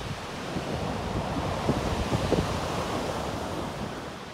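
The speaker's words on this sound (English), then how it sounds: "Listening to the ocean." Ocean waves breaking on the shore at Point Reyes, a continuous broad roar of surf with soft crests swelling and easing, close by and steady, with some wind noise.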